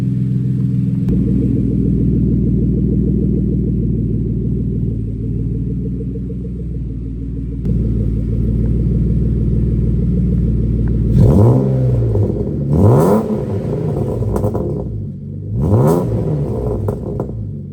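A loud BMW E36 engine with a Malian exhaust idles with a deep, steady rumble, then revs sharply three times, each blip rising and falling through a throaty exhaust.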